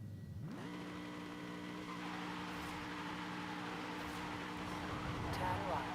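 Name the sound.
classic car engine hitting rev limiter, Forza Horizon 5 video game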